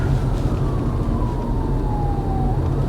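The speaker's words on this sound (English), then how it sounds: "And there's a siren behind us" An emergency vehicle siren wails on the road behind a moving car in small-town West Virginia, a single long falling tone heard moderately loud over the car's rumbling road noise.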